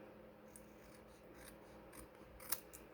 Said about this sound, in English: It's okay to just bring your paper snips in here